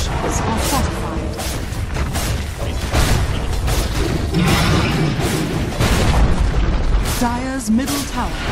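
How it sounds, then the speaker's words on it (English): Dota 2 tower under attack and collapsing: dense, loud battle noise of heavy booms, impacts and crumbling structure mixed with spell effects, continuous throughout with a few bright tonal chimes near the end. "Dire's middle tower has fallen."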